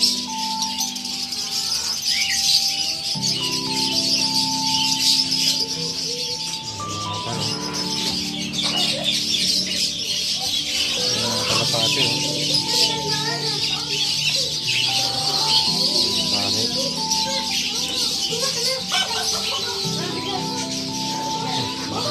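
Birds and chickens at a crowded bird market fill the air with continuous chirping, clucking and squawks, with a steady whistling tone recurring through a busy, noisy background.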